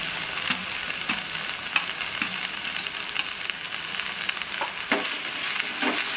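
Onions sautéing in an oil-free pan with ginger garlic paste for Gobi Manchurian, a steady close sizzle broken by repeated scraping stir strokes, no voices.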